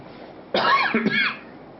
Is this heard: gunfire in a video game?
no